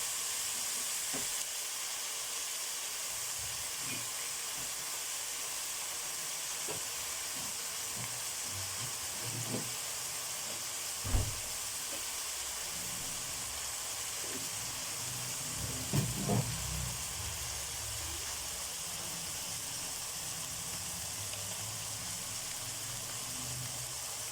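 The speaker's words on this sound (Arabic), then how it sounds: "هسيبها كده تاخد التشويحه المظبوطه بتاعتها" Meat and spices sauté in a pan with a steady, moderate sizzle throughout, broken by occasional soft knocks and clatter of stirring, one sharper thump near the middle and a brief cluster of scraping sounds shortly after.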